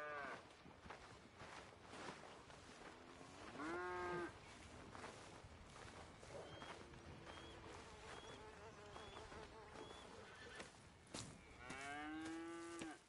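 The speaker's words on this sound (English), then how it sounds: "Here's the cows." Cattle in the Red Dead Redemption 2 video game moo twice, long drawn-out lowing calls a few seconds apart, over a soft ambient bed of buzzing flies and faint farm noise.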